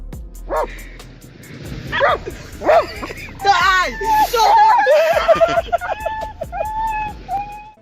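A dog that has just been shocked lets out loud, close yelps and then rising, wavering whimpers and cries in a burst of distress, with some background voices underneath.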